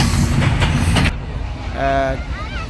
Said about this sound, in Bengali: ট্রেন গাড়ি চলে গেল